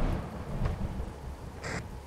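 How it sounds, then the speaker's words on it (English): Low rolling thunder from a rainy storm in American Truck Simulator rumbles steadily at moderate distance for about two seconds, with a faint higher crackle near the end and no voices. "I can hear the thunder."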